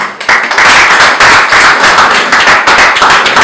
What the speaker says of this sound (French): s'il vous plaît, sous vos applaudissements, on va faire venir Blaise Boula.